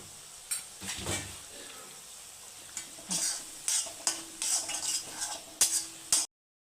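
Oil sizzles steadily with bursts of crackling as chana vadas fry, plus a few clinks of a utensil against the pan, no voices.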